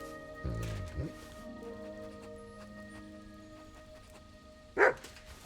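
Mutt the dog in Kingdom Come: Deliverance II gives a couple of short barks close by, then falls quiet over a low background hum before one more sharp bark near the end.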